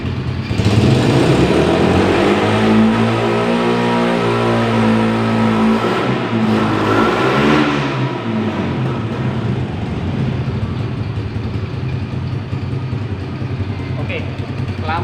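A motorcycle engine revs up to higher speed during a lighting-system fault diagnosis, a loud close drone whose pitch climbs over several seconds then holds at a high steady whine, with speech over it at times.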